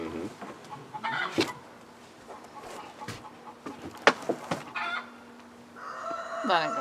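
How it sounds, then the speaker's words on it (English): Chickens turned out of their hen house cluck and squawk in agitated bursts, with a rooster crowing, close by and loud, plus scattered faint voices in the background. "they were mad about getting kicked out of their hen house"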